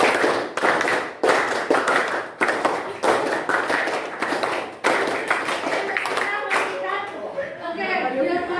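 A group of teachers doing a counted clapping exercise in Indonesian, clapping sharp bursts of five claps repeated four times in a steady rhythm, close and loud, with chatter at the end.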